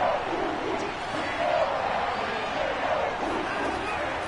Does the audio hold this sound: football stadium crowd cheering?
yes